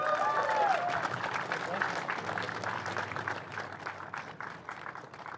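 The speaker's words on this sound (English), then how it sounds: "Show your appreciation for Uga Chukwu." A crowd applauds the podium in Victory Lane after a New Zealand Grand Prix race, steady clapping and cheering from a distance beneath a voice over the loudspeaker.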